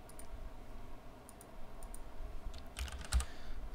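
Typing on a computer keyboard while searching in game development software, a few soft, close key clicks scattered over a quiet background, with a brief cluster of taps near the end.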